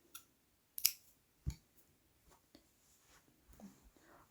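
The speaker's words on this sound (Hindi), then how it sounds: "यहाँ पर मैं धागा काट दूंगी।" Scissors snip crochet thread in a quiet room, with a few crisp clicks followed by faint handling sounds.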